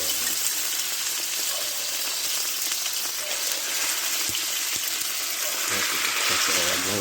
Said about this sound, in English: ready for the sizzle